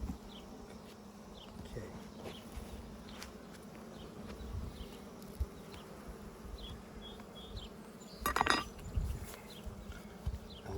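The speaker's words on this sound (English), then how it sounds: "Let's break this one apart." Honeybees buzz around an opened top-bar beehive, a continuous close hum with a few brief clinks and handling noises, and one short spoken word near the end.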